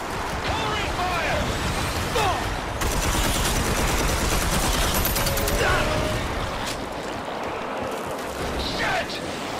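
Gunfire in a Red Faction Armageddon battle, a continuous loud barrage of shots and blasts filling the whole stretch, with shouting voices mixed in among the shooting.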